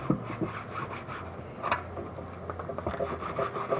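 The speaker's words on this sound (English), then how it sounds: "I actually will like scrub her body" A thrifted Our Generation doll's body is scrubbed to clean off a black spot, giving quick irregular rubbing and rasping strokes, close and moderately loud, with no talking.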